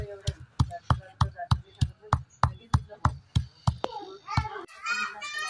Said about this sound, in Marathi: भाजलेले मसाले आता आम्ही खलबत्त्यामध्ये बारीक करून घेतोय, जाडे भरडे वाटून घेतोय